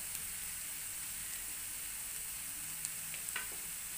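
Spice paste with turmeric and onion masala sautéed for sprouted moong usal, a soft continuous sizzle with a couple of faint clicks of a spoon against the pan.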